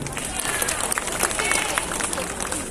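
A crowd at an outdoor night event in a town square in Rantepao, North Toraja, claps for the regent, a steady noisy mix of applause and chatter running throughout.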